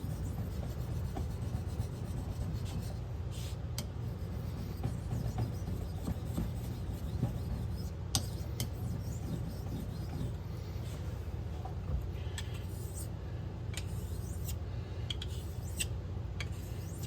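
A skinner knife is sharpened by hand in a hunting stand, the blade rubbing in faint, repeated rasping strokes against a quiet background.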